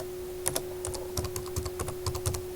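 Quick, irregular clicking of keys on a computer keyboard, close and moderately soft, a short burst of typing with no voices.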